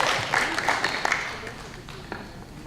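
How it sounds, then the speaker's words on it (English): Audience applause at a community advocacy gathering in Washington, DC, a broad wash of clapping from many hands with a few sharper individual claps, fading slightly over a couple of seconds. "Let's give him a round of applause"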